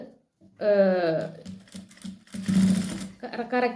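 A sewing machine stitches with embroidery thread on a nightie, running in short bursts with pauses between them while someone talks over the whirring.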